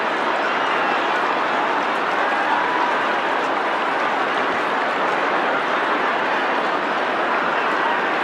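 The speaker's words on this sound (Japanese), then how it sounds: "拍手どよめき、全国の皆様のお耳に達していると思います" Sustained applause and a low murmur from a big racecourse crowd at the Arima Kinen, a steady, dense roar of clapping and voices with no break throughout.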